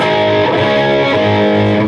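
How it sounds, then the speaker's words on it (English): An electric guitar plays a sustained, distorted tone with no gain boost engaged, loud and alone, holding rich overtones for a couple of seconds. "You got pretty good distortion even without that."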